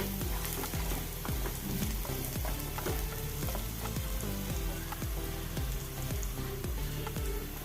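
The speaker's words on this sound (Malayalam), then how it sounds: "ക്യാരറ്റ് ചേർത്ത് കൊടുക്കാം ഇളക്കി കൊടുക്കാം" Carrot and mixed vegetables stir-fry in a hot pan for vegetable fried rice, giving a steady close sizzle with regular scraping strokes of a spatula repeating about twice a second throughout.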